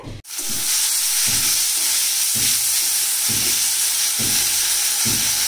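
Fish frying hard in hot oil in a wok, a loud, steady sizzle that holds throughout, with faint periodic bursts from stirring or turning beneath the continuous crackle.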